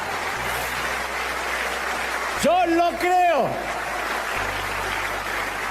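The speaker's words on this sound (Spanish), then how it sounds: "Alguien tiene que adorar más que eso con un aplauso." A church congregation keeps up a steady background of applause during a sermon, a broad, even clapping texture while someone speaks briefly over it.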